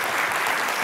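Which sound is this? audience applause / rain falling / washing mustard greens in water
audience applause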